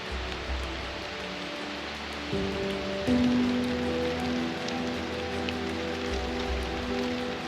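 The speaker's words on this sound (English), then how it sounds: "Well, the rain is coming down now, guys." Rain falls steadily at a quiet, secluded beauty spot outdoors, a continuous wash of drops with a low steady hum running underneath and no voices.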